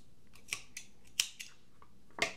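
Scissors snipping through knitting yarn, several quiet close crisp clicks and snips spaced irregularly over a couple of seconds in an otherwise still room.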